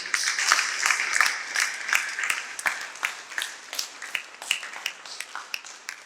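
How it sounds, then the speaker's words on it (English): An audience at a breast cancer awareness event gives young people a round of applause, lively clapping that starts strong and thins into scattered, distinct claps as it fades. "So give them a big round of applause."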